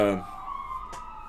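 An ambulance siren near San Antonio Hospital holds a loud, steady wailing tone close by, with a short burst of broadband noise cutting through near the end.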